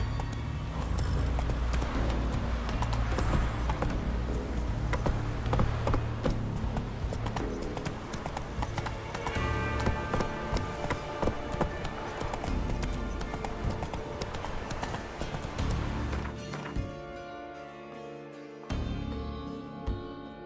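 Horse hooves from The Witcher 3 video game clip-clopping in a quick, steady galloping rhythm under game music and ambience, fading out near the end.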